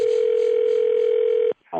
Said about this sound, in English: I got a hilarious prank phone call by Roy Wood Jr.